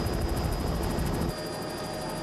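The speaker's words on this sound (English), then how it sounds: "Within minutes, South African military helicopters arrive" South African military helicopters arriving over cyclone flood rescue, giving a steady droning rotor and engine roar. It is fairly distant and continuous, and the low rumble eases partway through.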